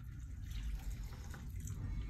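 Water pours into a cement mix for a stage prop, a soft continuous splashing trickle with a low rumble beneath, fairly quiet and with no talking.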